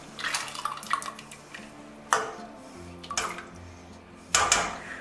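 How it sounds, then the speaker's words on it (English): Canned black beans with their liquid are poured into a pot of chicken tortilla soup, giving wet plopping and sloshing pours, with sharp clinks of the can against the pot at intervals, close by and with no talking. "I'm going to add 2 cans of black beans."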